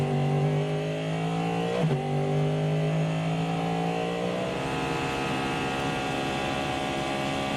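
The number 7 Porsche race car pulls away from a pit stop during the Rolex 24 at Daytona, its engine whine rising steadily, breaking at a quick gear shift, then climbing again as it fades slightly.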